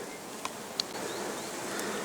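Honeybees buzz steadily inside a packed log hive, a dense continuous hum close by with a couple of faint clicks and no voices.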